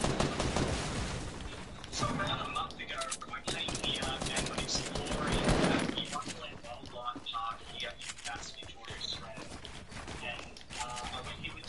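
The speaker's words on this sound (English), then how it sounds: "You're being shot up from behind." Video game gunfire crackles in rapid bursts and volleys nearly throughout, loud and dense, with players talking over the shooting.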